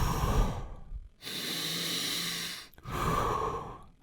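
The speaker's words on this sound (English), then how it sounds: "we're going to inhale and exhale deeply and quickly for 30 times" Deep, rapid breaths from a breathing exercise for energy: forceful airy inhales and exhales alternate closely, a few cycles heard up close with no talking.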